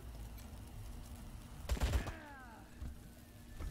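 A precision strike in Wasteland 3 aimed at an enemy's arms to cripple him: a brief burst of gunfire lands near the middle, followed by descending whistling and ringing tones over a low background hum.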